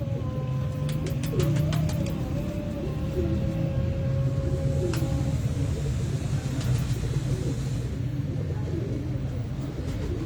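Pigeons kept by a Lahore pigeon fancier, including a very large senior bird, coo low and steadily over a constant rumble of traffic, with a few thin bird chirps scattered through.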